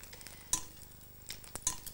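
Quiet frying sizzle in a pan, a steady hiss broken by a few sharp clinks or spatters, with no talk over it.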